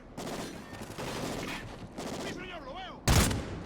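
Rapid gunfire bursts from a shooter video game, a dense run of shots with a loud close blast near the end, mixed with game effects and a rising electronic tone.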